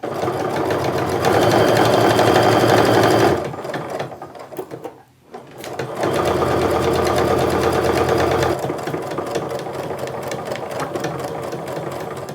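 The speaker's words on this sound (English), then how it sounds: "Now I'm going to sew a 1/4 inch seam across the entire top of my piece" Close, loud whir of a sewing machine running a quarter-inch seam across the top of a bag, one long run, a brief stop and restart, then a steady second run, with no voices.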